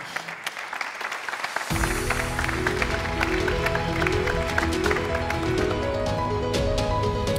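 An audience at a regional congress mobility round table bursts into applause to welcome the Minister of Transport. Sparse claps build to sustained clapping, with music starting beneath it.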